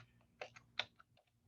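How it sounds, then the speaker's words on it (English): A few quiet, irregular keystrokes on a computer keyboard, sharp clicks spaced apart with no voices. "just start typing"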